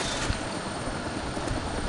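A helicopter in the video game Arma II gives a steady, dense rotor and engine roar at moderate level, with no talk over it.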